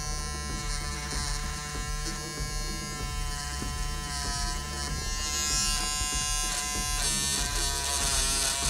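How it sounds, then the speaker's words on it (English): An electric stitch eraser buzzes steadily and up close while removing an embroidered logo from a Rick Owens x Champion fabric garment, a continuous motor hum with no talk. "So I'm just exploring a little bit with my stitch eraser here."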